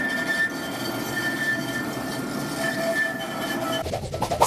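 A tram in Brest, France, runs steadily along its rails with a continuous rumble and thin, high wheel squeal, then clattering bumps near the end.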